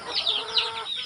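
Pet chickens cluck and murmur close by in a quick burst of overlapping calls, with no talking.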